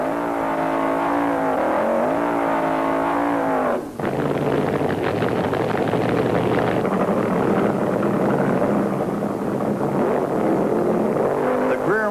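1970s drag racing cars, including a Mustang, launching down the strip with a loud, sustained engine roar and rising revs, a brief dip before a fresh blast of engine noise that carries on to the end.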